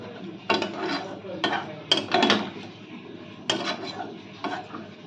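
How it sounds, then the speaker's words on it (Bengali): A spoon stirs papaya plastic chutney in a pot as lemon juice is mixed in, producing rhythmic scraping and swishing strokes close up, about six distinct passes with short gaps, with no talk over them. "এবার ভালো করে আমি লেবুর রস দিয়ে মিশিয়ে নেব।"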